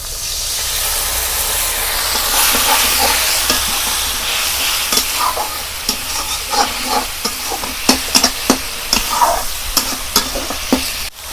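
Spice paste for a Bengali koi fish curry hissing hard in a pan as a splash of water hits it, a loud steamy burst that settles into sizzling with rhythmic stirring scrapes, close up and without voices.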